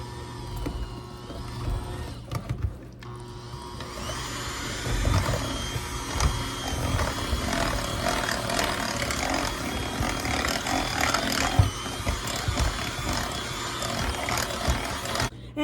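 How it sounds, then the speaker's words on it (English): Electric mixer whirring steadily through chocolate pudding bundt cake batter, a continuous close motor drone with some rattling variation, running alone for the whole stretch. "I'm going to mix this up with the mixer just until everything is incorporated and mixed together"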